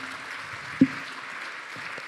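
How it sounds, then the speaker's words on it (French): Steady, diffuse applause from an audience at a public meeting on future genetics, moderately faint and sustained throughout, with one brief sharper knock partway through. "On vous applaudit."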